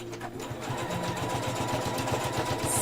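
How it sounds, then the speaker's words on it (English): A sewing machine stitches a fabric keychain bag, running as a steady close mechanical hum with a rapid, even needle-thump rhythm that builds and continues throughout. "Shut up and sew, Eris."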